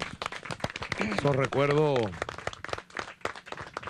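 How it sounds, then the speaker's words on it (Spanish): Applause from a crowd at a rural farmers' tribute gathering rattles through the scene, with sharp claps scattered around and under someone speaking Spanish. "Un aplauso."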